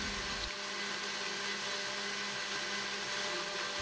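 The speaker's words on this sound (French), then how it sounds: "On va continuer à fouetter," Electric mixer whisking butter, sugar and eggs for a Valentine's cake batter, a steady high motor whine that holds evenly throughout, with no voices.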